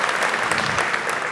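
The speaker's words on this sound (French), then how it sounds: "On peut l'applaudir" A brief burst of audience applause at a departmental awards event, dense and even clapping close by for just over a second.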